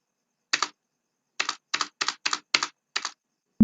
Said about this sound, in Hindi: मैं सेल्स में जाने के लिए कीबोर्ड में F8 प्रेस करूंगा